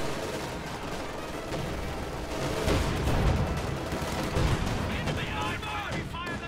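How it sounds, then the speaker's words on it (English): An infantry support gun fires from range over the troops in a World War II strategy game battle, with booming shots and a dense rumble of gunfire and explosions, under steady talk. "infantry support gun firing from range as well over the troops"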